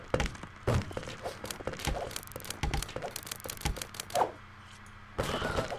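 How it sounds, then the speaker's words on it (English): Catapult fire in the video game King Arthur's Gold, a busy run of thumps and clattering impacts in irregular bursts, followed by a brief lull and more thuds near the end. "Fire the catapult!"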